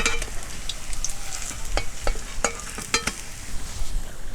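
Pieces fry in hot oil in a pan for an egg and jackfruit dish, giving a constant close sizzle with sharp crackling pops scattered throughout.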